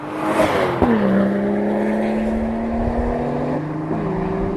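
Toyota Supra driving on the road, its engine a steady droning hum that rises and shifts in pitch as it pulls away, heard up close inside the car with no voices.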